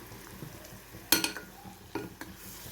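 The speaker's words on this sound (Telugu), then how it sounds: "ఒకసారి కలుపుతాం." Dal with tamarind juice and green chillies being stirred in an electric rice cooker: a sharp spoon scrape against the pot, then a few lighter stirring scrapes and clinks, close and fairly quiet.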